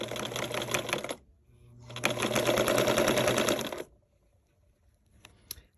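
Sewing machine stitching two duvet topper pieces together for a twin bunk bed zipper topper, running in two steady bursts of about one and three seconds with a quiet pause between and faint handling noise after.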